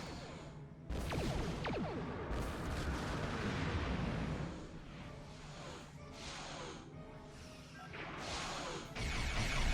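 Photon torpedoes launching in the space combat game Star Trek Online, a string of heavy booming blasts with whooshing tails that rise and fall in loud overlapping bursts, with no speech.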